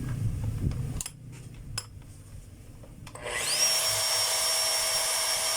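A 5 kg power hammer drill is test-run: a few faint knocks, then after about three seconds the motor spins up to a steady, loud, high whine that holds to the end, with no hammering beat.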